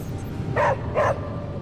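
Two distinct dog barks from a game character's pet in Marvel's Midnight Suns, spaced about half a second apart over a steady ambient hum, with no talking.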